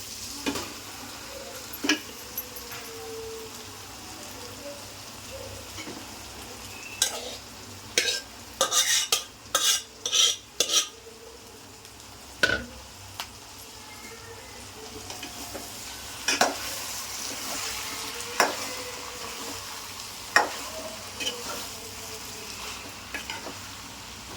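Chicken curry fries in a pan with ginger garlic paste, giving a steady sizzle while a utensil stirs and scrapes in irregular bursts, close and moderately loud with no talking.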